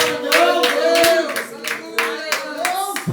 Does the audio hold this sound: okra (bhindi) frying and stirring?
no